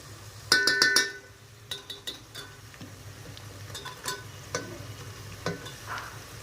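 Tomatoes tipped into a pan of fried onions for a room-cooked chicken biryani, with clattering pan and utensil knocks at first, then intermittent stirring scrapes over a low, continuous frying sizzle.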